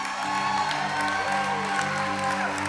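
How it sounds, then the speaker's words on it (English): Audience applause at a church conference session, a steady wash of clapping heard under sustained music with held tones, moderately loud throughout. "You got to give Lord a clap."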